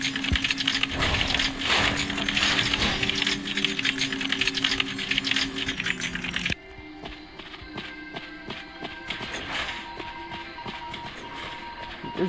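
A cipher machine being decoded in the video game Identity V gives off rapid, continuous typewriter-like clattering and ticking. It is loud at first, then drops to a quieter, sparser clicking with game tones partway through.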